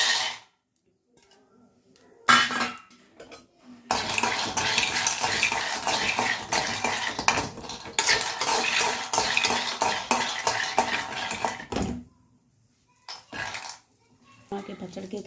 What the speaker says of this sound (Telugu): గోళంలో మనం వేరుశనగ పప్పులు వేయించుకోవాలి